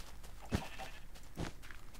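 Two brief, quiet bleats from Minecraft sheep near a pen on a farm, spaced about a second apart against a faint background.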